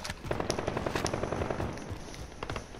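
Rapid automatic gunfire from the video game Call of Duty: Modern Warfare, loud and continuous, with sharp bursting shots rattling through the whole stretch and no talking over it.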